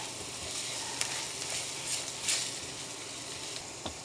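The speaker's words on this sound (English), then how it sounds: "Now I'm going to add a tablespoon of curry powder. And just mix those spices in with the oil" Curry powder and spices sizzle steadily in hot oil for butter chicken, a dense continuous hiss with a few brief louder crackles and spatters, close and alone with no talking.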